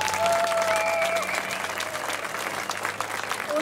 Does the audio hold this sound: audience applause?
yes